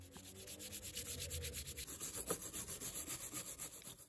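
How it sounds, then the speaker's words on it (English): Fine 220 grit sandpaper rubs back and forth over a painted tool handle, a soft, close, rhythmic rasping with quick regular strokes. "I'm also using this 220 grit sandpaper just to clean up the paint on the handle."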